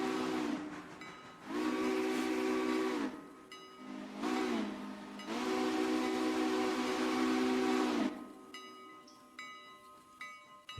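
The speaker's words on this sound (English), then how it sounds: "These AI drivers do love their whistles." A steam locomotive whistle in a train simulator game blows several long, loud blasts of varying length, followed by softer hissing and a few brief tones.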